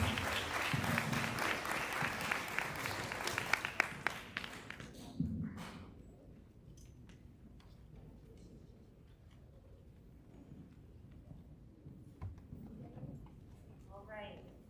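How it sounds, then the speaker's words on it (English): Audience applause at a school fifth-grade farewell for two classes, a loud burst of clapping for the first few seconds that fades into quieter room noise with scattered claps. "Let's give our friends at Mrs. Wagaman and Mrs. Brillhart's classes a round of applause"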